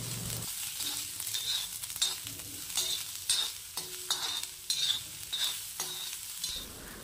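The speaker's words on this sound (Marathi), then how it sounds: "तर इथं कांदे आपण छान मस्त सोनेरी होईपर्यंत तळून घ्यायचे" Sliced onions fry in two to three spoons of oil in a pan while being stirred, giving a steady sizzle that rises into a regular rhythm of scraping stirs, close and clear.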